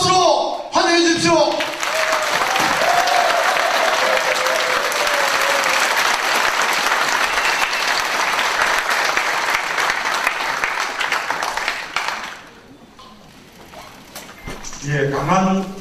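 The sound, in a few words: audience applause welcoming a speaker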